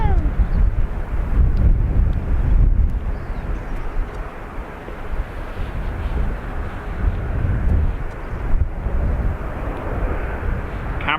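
An airliner rolls slowly into its parking stand at Dublin Airport, its engines giving a steady, loud low rumble with wind buffeting the microphone, and faint voices underneath.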